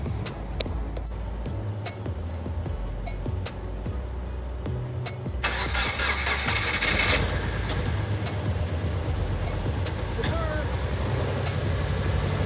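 A rebuilt Subaru Forester engine, newly swapped in after a rod knock failure, cranks and catches, then idles with a steady low rumble close by, rising briefly in a burst of noise midway.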